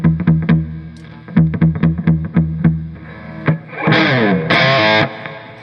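An electric guitar played through a DIY single-ended Plexi-style tube amp in its Mod 5 mode, a run of sharp plucked notes and short riffs with effects, ending in two loud sustained distorted chords.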